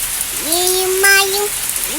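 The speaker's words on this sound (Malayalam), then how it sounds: "മഴ മഴ പെയ്യുന്നു" Rain falls as a continuous, even hiss in the background while a voice sings over it.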